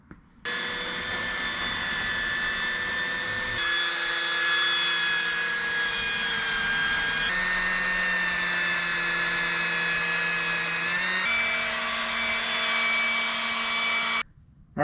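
Power polisher with a pad buffing cleaner and wax onto a painted Frisco-style motorcycle tank, a steady high whine with shifting pitch held for about fourteen seconds, close and alone with no talk.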